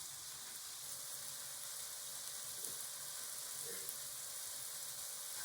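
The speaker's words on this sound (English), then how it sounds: "Now you're just going to saute your asparagus for 7 to 10 minutes" Asparagus sautéing in a hot pan gives a steady, fairly faint sizzle that runs unbroken throughout, with no talking over it.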